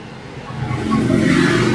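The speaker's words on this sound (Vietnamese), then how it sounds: "Thấy ở đây cái xe cộ ngang tấp nập nè." Busy road traffic in Tra Vinh, Vietnam, with engines rumbling and a vehicle swelling louder as it passes near, the noise rising toward the end over a steady background hum.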